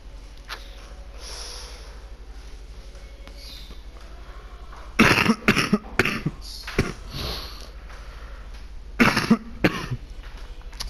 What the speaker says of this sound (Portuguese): eu tô com uma tosse aqui meio chata